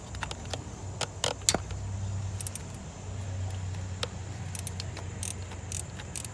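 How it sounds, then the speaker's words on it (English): A ratcheting wrench loosens an alternator bolt on an Integra engine, giving quiet scattered clicks and short metallic taps over a low background hum. "I'm just using a ratcheting wrench."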